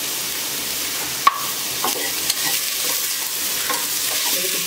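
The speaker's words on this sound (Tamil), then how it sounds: "கட் பண்ணி வச்ச கேரட்டை போட்டு கொஞ்சம் லேசாக வதக்கினா போதும்" Cut carrots and chopped coriander sautéing in a pan make a continuous close sizzle, with a sharp utensil tap early on and soft stirring scrapes throughout.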